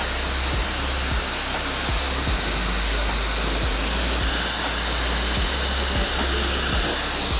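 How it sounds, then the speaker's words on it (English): A barber's blow dryer roars in a constant, loud, close rush of air while blowing cut hair out of a drop fade on waves, with faint rhythmic clicks underneath and no talking. "I'm gonna go through with my blow dryer and comb to get all the hair out and relift it"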